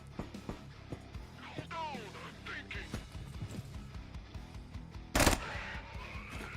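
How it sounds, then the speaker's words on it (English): An SMG submachine gun fires in the game Quasimorph, with sharp, clustered shots scattered through the stretch and one loud burst near the end, heard beneath someone talking. "SMG."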